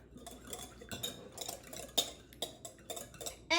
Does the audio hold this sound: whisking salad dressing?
yes